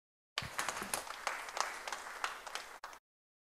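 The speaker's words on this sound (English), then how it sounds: "Give him a round of applause." An audience claps in a round of applause at a talk on greatness through service, a dense burst of clapping that starts abruptly, holds steady for a few seconds and stops sharply.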